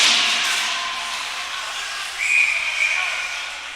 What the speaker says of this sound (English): And now a whistle.